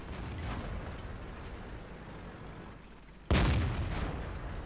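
A tank in World of Tanks takes a hit in the rear from enemy fire. A sharp, loud boom lands suddenly after a stretch of low rumbling battle noise and rings out for a moment.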